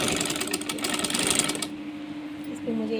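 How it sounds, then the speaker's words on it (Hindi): Sewing machine stitching a bedsheet, a steady loud mechanical whir for the first half, then dropping to a quieter background hum with faint household noise. "इस पर मुझे एक और सिलाई मारना पड़ेगी, मैं एक सिलाई और दूँगी इसके ऊपर, ताकि ये मज़बूत हो जाए"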